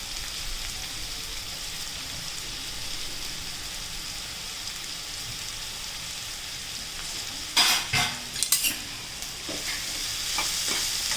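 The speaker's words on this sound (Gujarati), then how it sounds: "હવે આપણે થોડી વાર એને હલાવીએ અને પછી ચડે ત્યાં સુધી રાખીએ." Capsicum, cabbage, carrot, onion and tomato fry in a pan with a soft, continuous sizzle, and a few close clatters of stirring come near the end.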